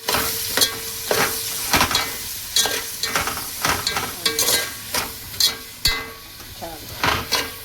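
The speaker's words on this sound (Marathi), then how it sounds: "आता हा कांदा घेऊया फ्राय करून ह्याच्यामध्ये" Chopped onion frying in oil in a pot over high heat, a steady sizzle broken by regular scraping stirs and occasional knocks of the spatula against the pot, close and fairly loud.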